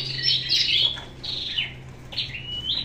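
Caged Oriental magpie-robins chirp in short, bright bursts close by, with a few gaps and faint rustling movement beneath a low steady hum.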